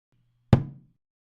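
A single sharp knock on wood sounds during a séance in a dramatized audio mystery, one close dry rap that fades quickly into silence.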